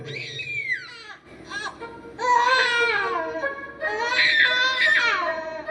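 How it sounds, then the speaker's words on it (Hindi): A baby wails loudly in a cradle, with sharp high cries broken by short gasping pauses, close and loud with no other voices. "पालने में लेटे थे और खूब रोने लगे।"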